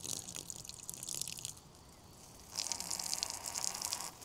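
Water from a ram pump outlet pours and splashes steadily in a bright, hissy stream, softer for a moment in the middle before gushing strongly again, with no voices.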